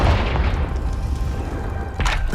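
A Confringo spell blast in the Hogwarts Legacy video game sounds as a deep, rumbling boom that lingers, followed by a second, sharper burst near the end.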